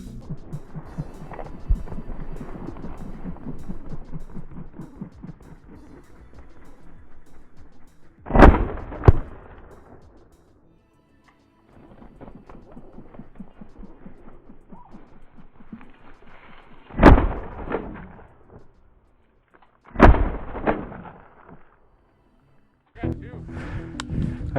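Shotgun blasts while hunting chukar birds outdoors: several sharp, loud reports in separate bursts spaced seconds apart, with people talking between and around the shots.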